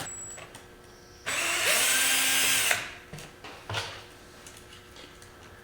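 A power hex driver turns screws on a giant Kraken Vekta.5 Class 1500 unlimited RC race buggy. It gives a single loud whirring burst of about a second and a half, framed by quieter ticks and clicks of handling.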